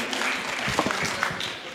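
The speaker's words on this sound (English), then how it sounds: "Please make a big round of applause for my panelists and yourself" An audience at a panel discussion applauds the panelists, a dense burst of many hands clapping at close range with scattered voices mixed in.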